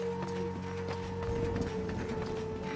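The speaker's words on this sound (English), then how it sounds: "This is no place for a horse." Horse hooves clip-clop in the video game Darksiders 2, a steady rhythmic run of clicks over a sustained tonal game hum, with no talking.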